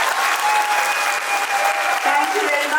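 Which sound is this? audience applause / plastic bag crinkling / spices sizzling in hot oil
audience applause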